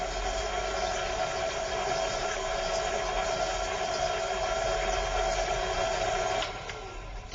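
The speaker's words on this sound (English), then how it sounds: "And now a little bit of whirring," A food processor whirs steadily, blending cocoa crumbs and butter for a chocolate cheesecake base, a constant mid-pitched motor hum that drops away near the end.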